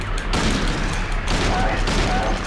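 Gunfire in the video game Silent Hill 2: several loud shots in close succession, dense and booming, with no speech over them.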